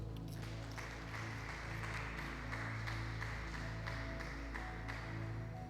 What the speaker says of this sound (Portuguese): Pode aplaudir bem forte o Senhor.